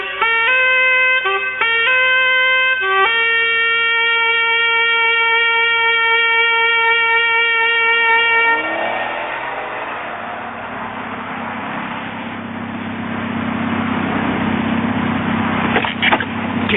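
A sustained car horn blares at a steady pitch with short breaks, then gives way to a rumbling car engine and road noise that builds and carries on to the end.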